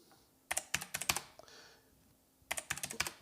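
A command typed on a computer keyboard: two quick bursts of sharp key clicks, about half a dozen each, separated by a short pause, close and clear with no talking.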